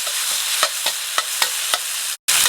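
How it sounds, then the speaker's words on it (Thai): Pounded garlic, pepper and coriander root stir-fried in hot oil in a wok, with a continuous bright sizzle and a regular series of spatula scrapes, close up, then a brief dropout before the sizzle resumes. "ใส่ในน้ำมันนะครับเราก็จะ ผัดให้หอมกันเลยนะครับ"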